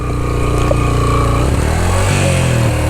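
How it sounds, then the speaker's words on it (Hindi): A motorcycle engine revs and labors steadily while the rider climbs a loose, rocky jeep track near Baboon Top in Neelum Valley, loud and close throughout. "अब मेरा बाइक भी चढ़ना जो है ना बड़ी टेक्निक के साथ चढ़ाना पड़ेगा"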